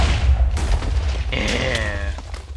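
A ship's cannon firing in a Minecraft sea battle: a heavy low boom at the start, followed by further thuds and a falling whistling tone, loud and near.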